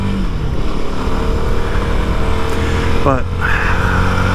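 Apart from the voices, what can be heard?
CFMOTO 300SS motorcycle engine while riding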